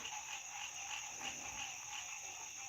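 Frogs croak at night in a steady, dense chorus that holds at an even level throughout, faint and continuous with no voices over it.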